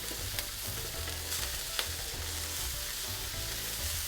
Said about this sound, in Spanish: Y lo primero que voy a poner es mi tocineta. Ya el sartén mío, el wok, está bien caliente.